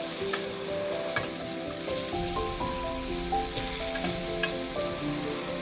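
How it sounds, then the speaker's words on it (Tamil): Milk shark fish sizzles and fries steadily in a pan, a dense crackling hiss with a few sharper pops, while a soft melodic tune plays underneath. "தொடர்ந்து நம்ம மீனை பரட்டி விடுவோம். அந்த சைடு வேகிறதுக்காக நம்ம அதை மாற்றி விடுவோம்."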